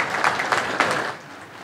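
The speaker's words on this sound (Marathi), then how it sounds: "जरा जोरदार टाळ्या वाजवूया आपण यांच्यासाठी" An audience of village council members and guests at a sarpanch gathering in the Konkan claps in a brief, dense burst of applause that fades toward the end.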